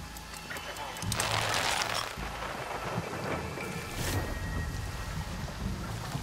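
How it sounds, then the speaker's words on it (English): Heavy rain hisses steadily in the Far Cry 6 game while thunder rolls and rumbles through the downpour, with a louder swell early on. "Rain. Perfect for stealth."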